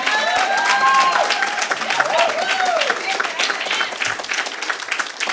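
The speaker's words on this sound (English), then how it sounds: "Can we give a round of applause for my dad?" A lecture audience breaks into warm applause for the speaker's father, dense clapping with a few cheers and voices over it, loud at first and slowly thinning out.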